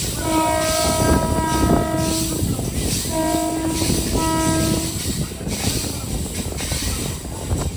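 A MEMU passenger train pulls into a station, sounding two long horn blasts in succession over the rolling clatter of the coaches, which carries on steadily after the horn stops.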